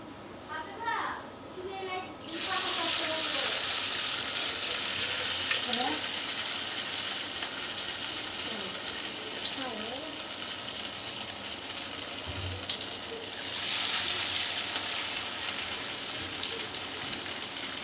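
Drumstick (moringa) leaf fritter batter, shaped into balls, fries in hot oil with a steady close crackling sizzle like rain, while someone speaks over it.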